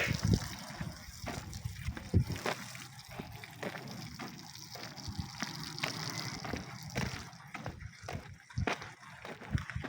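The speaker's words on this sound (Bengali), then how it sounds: "আস্তে আস্তে পানিগুলো পড়তেই থাকুক" Water splashes and gushes unevenly from a pipe, with scattered knocks and a faint background hum.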